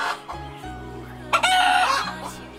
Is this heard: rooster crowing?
yes